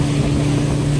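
A speedboat runs across backwater near Kumarakom with a steady low engine drone and rushing wind noise, loud and continuous throughout.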